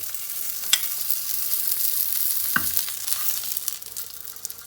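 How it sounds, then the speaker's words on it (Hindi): Chicken seekh kebabs fry over low heat in a pan with a steady, close sizzle and crackle, and a soft clink of a utensil partway through. "बस आप लाइट आंच से फ्राई कीजिए और सारी साइड से अच्छे से फ्राई करें"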